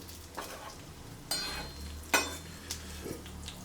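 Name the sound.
stirring beef stew in a pot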